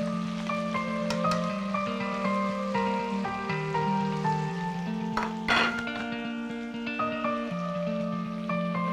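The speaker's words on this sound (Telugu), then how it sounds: "ఓకే, ఇప్పుడు ఇందులో చికెన్ యాడ్ చేస్తున్నాం." Chicken being added to vegetables frying in a pan on a cooking show, giving a steady loud sizzle with stirring and pan clatter, a brief bright scrape near the middle and an electronic tone running throughout.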